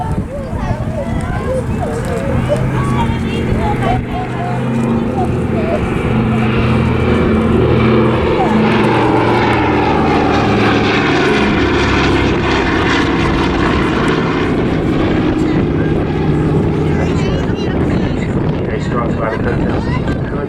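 Battle of Britain Memorial Flight Douglas Dakota C-47 in an evening airshow display, its piston propeller engines droning steadily and loud throughout, with wind buffeting the microphone and a commentator's voice talking over it.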